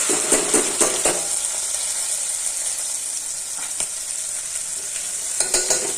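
Okra dropped into hot oil with popping mustard seeds, cumin and asafoetida: a loud, continuous sizzle with bursts of crackle and stirring scrapes near the start and end, close by and without talk.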